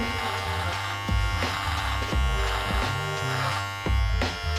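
A Philips Multigroom electric trimmer edging hair gives a steady, loud, close mechanical buzz that runs the whole time, with slight pitch dips and bumps as the blade moves against the hair, alone without talking.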